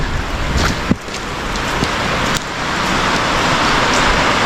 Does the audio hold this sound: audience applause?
no